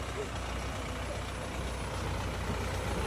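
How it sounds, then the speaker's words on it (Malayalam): A heavy bus engine running near a riverside road, a dense, steady rumble and roar that stays loud and even throughout, with faint voices mixed in. "പുഴയിലെ കൂടെ ബസ് പോകുന്നു."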